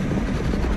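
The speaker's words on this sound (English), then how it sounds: "And I'm going to run this window down." Steady, loud wind rushing and buffeting through an open Tesla Model Y window, dense low roar with broadband hiss, continuous throughout the short stretch, no talking.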